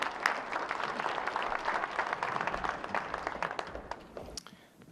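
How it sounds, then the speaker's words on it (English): An audience applauds at an arts and culture talk in South Africa, a dense, steady round of clapping from a room full of people that fades out at the end. "So a warm round of applause for Dr. Kim."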